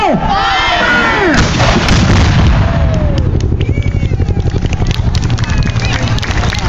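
Civil War cannons firing at Greenfield Village, heavy booming blasts that roll and echo across the grounds, with a crowd shouting and cheering loudly throughout.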